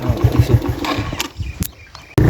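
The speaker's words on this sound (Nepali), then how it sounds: "बाइक स्टार्ट भएन क्या" A broken-down motorcycle, off-road, sputters in rapid chugging bursts, turns over unevenly and dies away, then a loud thump at the end; close and fairly loud.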